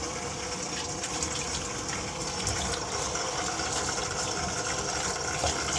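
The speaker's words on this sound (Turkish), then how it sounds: "Üzerine geçecek kadar su koyacağım." Cold water gushes steadily into a container of wild mushrooms, a continuous close, even rushing and splashing sound with no pauses.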